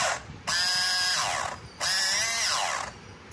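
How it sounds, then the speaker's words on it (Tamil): A faulty mini sewing machine runs in two bursts, each about a second long, giving a harsh, rattling whine with a rising then falling pitch, loud and close with a short pause between and no speech. "இப்படி ஆன் பண்ணும்போது மிஷினே ஒர்க் ஆகாது, சத்தம் மட்டும்தான் அதிகமாக கேட்கும்."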